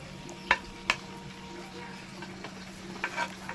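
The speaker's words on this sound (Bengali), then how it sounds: "এবার দিয়ে দেবো আলু পটল কাটে একদম শেষে" Spiced potato and pointed gourd frying in a pan, with a steady low sizzle and a few sharp scrapes of a spatula stirring, fairly close and without any talking.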